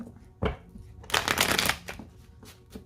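Tarot cards being shuffled and cut by hand: a quick riffle, then a louder burst of rapid card flutter and a few soft taps, close and clear.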